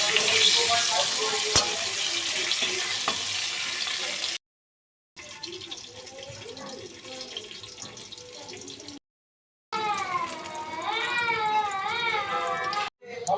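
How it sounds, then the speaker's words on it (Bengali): Vegetables frying one batch after another in a kadai while a Bengali magur fish curry is prepared, a steady loud sizzle broken by short gaps, with water-like hiss and faint stirring. "তো একে একে আনাজগুলো ভেজে নিচ্ছি।"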